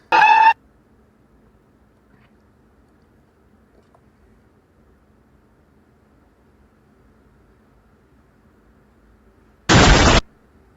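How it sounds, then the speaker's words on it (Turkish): Two short, loud bursts of explosion sound effect, one at the start and one near the end, separated by near silence. "Patlama efekti koydu."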